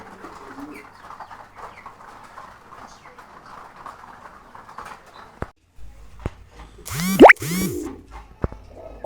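Pigeons at a breeding farm give a couple of loud, close coos late on, after a stretch of soft low murmuring and background chatter, with a person speaking at times.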